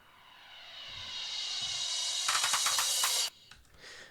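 In an organic house track, a fill just before the drop has a filtered noise sweep rising for about three seconds, with stuttering hits near the top before it cuts off abruptly. A brief, quieter tail follows.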